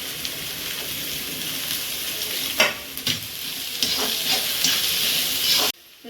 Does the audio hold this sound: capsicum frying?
yes